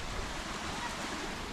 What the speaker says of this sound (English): Nice sound, too, with that waterfall going.